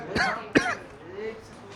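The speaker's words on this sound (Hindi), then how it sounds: "खांसी हो रही" Two harsh, close coughs a fraction of a second apart, the second one sharper and louder, from a person during a chemistry lesson, followed by quiet room tone.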